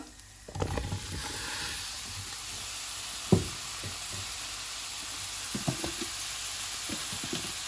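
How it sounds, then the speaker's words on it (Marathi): Chopped garlic and mushrooms fry in a pan with a soft continuous sizzle, broken by scattered clinks and knocks of a utensil, one sharper knock midway, all close with no talking. "मातशें भाजून हाडया आनी हांव आतां तितू मशरूम घालता।"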